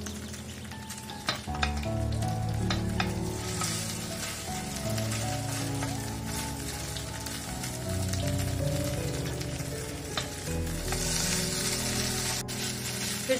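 Sabudana tikki sizzling steadily in a pan just after being flipped, a continuous close, fairly loud frying hiss with small crackles and no talk.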